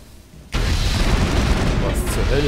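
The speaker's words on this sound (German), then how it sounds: "Selbstmordviecher, die explodieren oder wie?" Creatures blowing up in the video game Mass Effect: a sudden loud, sustained rumbling blast begins abruptly after a quiet moment and rolls on steadily with crackling debris, fairly close and full.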